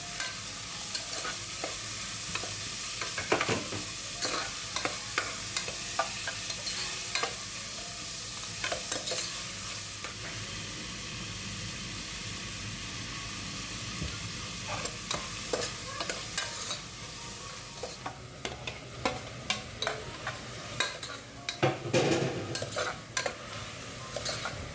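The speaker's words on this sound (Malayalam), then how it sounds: "സവാള ഇട്ടതിന് ശേഷം കുറച്ച് ഉപ്പും കൂടി ഇട്ടിട്ട് നന്നായിട്ട് വഴറ്റിയെടുക്കാം കേട്ടോ." Onions sautéed with salt in a pan for a chicken curry, with a constant sizzle and repeated spoon scrapes and clinks against the pan, close up and continuous with no talking.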